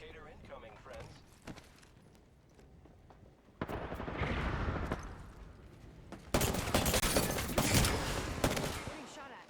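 Bursts of automatic gunfire from the video game Apex Legends crackle in the midground, building into dense volleys in the second half, while a player talks throughout.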